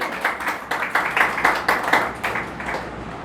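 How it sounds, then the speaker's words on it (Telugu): Congregation clapping loudly during a church sermon, a strong rapid patter of many hands that swells and then eases slightly over a few seconds, close and full with no speech. "చప్పట్లు కొట్టండి గట్టిగా."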